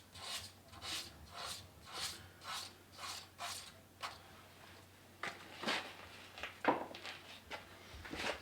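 Repeated rasping strokes of a 220-grit sanding sponge on a small wooden birdhouse ornament, a steady back-and-forth rhythm that turns quicker and more irregular toward the end, close by.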